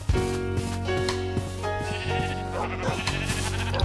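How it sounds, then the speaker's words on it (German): Several sheep in the video game Minecraft bleat in quick overlapping calls, fairly loud and near, continuing throughout with no talk. "Eine Menge Schafe."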